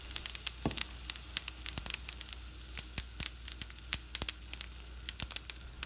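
Urad dal fries in hot oil over a low flame, giving a steady close sizzle peppered with sharp pops and crackles at an irregular pace, with no voices.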